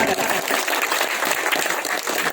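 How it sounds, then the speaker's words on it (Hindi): Audience clapping loudly at a birthday celebration held around Ambedkarite ideas, a dense, continuous close-up patter of hands that stays even throughout. "एक बार जोरदार तालियों से स्वागत।"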